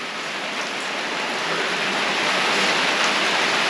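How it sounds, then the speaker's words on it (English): Heavy, steady rain pours down outside a 200-year-old cottage, a dense continuous hiss that holds loud and even throughout with no voices. "this is weeks of rain, like heavy rain like this as well"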